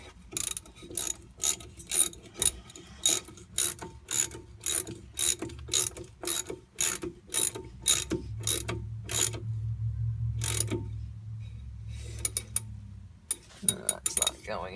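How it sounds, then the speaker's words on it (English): A hand ratchet tightening bolts on the rear drum brakes of a 1979 barn-find Chevy Camaro: rapid, evenly spaced clicking bursts, close and loud, then a pause with a low hum before more quick ratcheting near the end. "you're going to take your ratchet, once you get the bolts in, you're going to tighten up your bolts"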